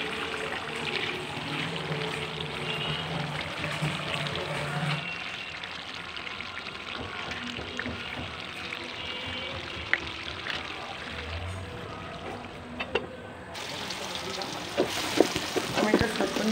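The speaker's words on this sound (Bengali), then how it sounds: "ঘিয়ের ফ্লেভারের জন্য ঘিটা দিয়ে দিলাম" Homemade ghee is poured over a pot of dum biryani, giving a soft, steady sizzling hiss with small crackles that fades midway and picks up again toward the end.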